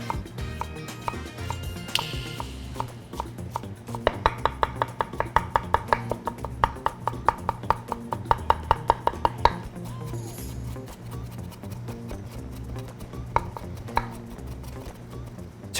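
A kitchen knife finely minces lotus root on a cutting board for porridge, rapid rhythmic chopping taps clustering in bursts with pauses between, close and crisp, alongside occasional clinks of utensils.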